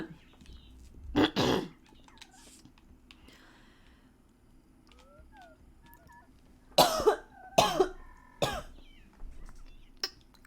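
A person coughs in several sharp, hoarse bursts, some close together and some spread out, over a quiet room with faint bird calls in the background.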